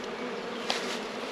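Honey bees at an open hive give a steady, close buzz of many wings, fairly quiet and unbroken, with no talking.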